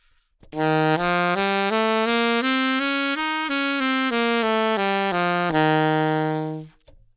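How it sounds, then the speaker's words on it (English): A bright, sustained melodic instrument plays the Lydian dominant scale, about fifteen notes rising and then falling back down in an even, steady rhythm. "the scale, the Lydian dominant scale, also known as the 4th mode of melodic minor, would sound like this."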